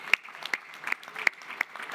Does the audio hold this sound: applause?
yes